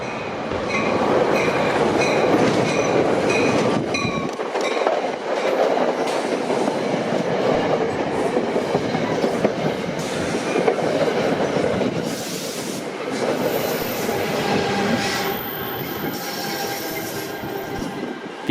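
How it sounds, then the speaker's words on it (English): An eastbound NJ Transit train bound for Hoboken, pushed by ALP-45DP locomotive 4507, rolls past up close and loud, with steady rumbling wheels, rhythmic clickety-clack over rail joints and high squealing flanges throughout. "Pushing the train is ALP 45DP 4507,"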